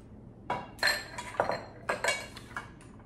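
A mixing bowl and whisk being picked up and set down in a kitchen while preparing a sweet potato cake, with about six sharp clinks and knocks of metal on bowl spread over three seconds, close and fairly loud, no talking.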